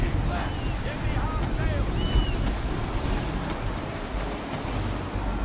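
Strong gusts roar across open sea aboard a colonial sailing flagship in Assassin's Creed 3, a steady dense rush of wind and surf with faint creaks and distant shouted voices underneath.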